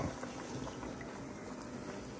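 Steady bubbling and rolling of water at a boil as spaghetti cooks, a continuous watery churn with no voices.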